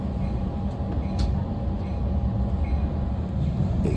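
A train rolls past at Chatsworth with a continuous low rumble and clatter of railcars at close range and faint high squeals from the wheels throughout.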